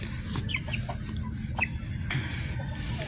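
Several white and brown hens cluck and chirp close by in a farmyard, short scattered calls over a constant low rumble of background noise.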